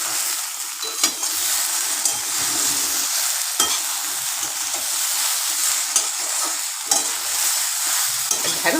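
Okra fries in oil in a pan for a yogurt okra dish, a loud, even sizzle close by, broken by occasional sharp clicks and scrapes as it is stirred.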